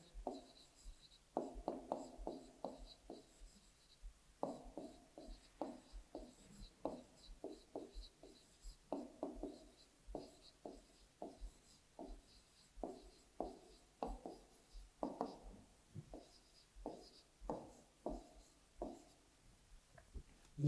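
A pen scratches across paper in short bursts of strokes during a Class 4 maths lesson on addition and subtraction, rhythmic and close but quiet, with pauses between clusters.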